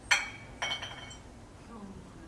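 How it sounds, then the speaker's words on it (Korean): A glass bottle rolling somewhere behind the listener gives two bright clinks a half second apart, followed by a softer, fading rolling rattle. "뒤에서 병 굴러가는 소리라고 말씀해 주셨는데"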